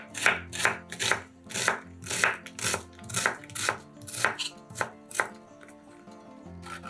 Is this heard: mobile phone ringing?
no